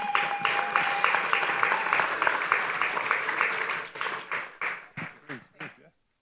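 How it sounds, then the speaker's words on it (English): A large audience at the Caribbean Global Awards 2023 applauds with dense, steady clapping and a few voices mixed in, then thins to scattered claps and fades into silence. "big round of applause again for the man behind the woman"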